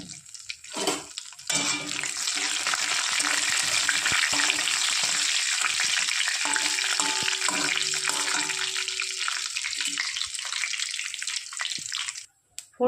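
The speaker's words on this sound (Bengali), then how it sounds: "ওই তেলেই ফোড়নে দিয়ে দেবো 2টো তেজপাতা, দিয়ে দেবো একটা শুকনো লঙ্কা," Bay leaves, a dried red chili and whole cumin seeds tempering in hot oil, giving a loud, steady crackling sizzle that runs nearly unbroken for about ten seconds before dropping away briefly near the end.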